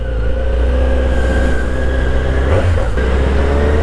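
A Kawasaki motorcycle pulls away, its engine a loud, steady, close drone with a brief rev swelling near the end.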